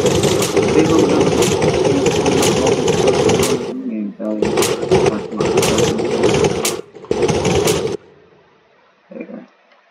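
A worn-out beater car engine in the BeamNG driving game sputters in loud, rhythmic bursts that keep cutting out, then stalls near the end with only a faint brief cough afterward.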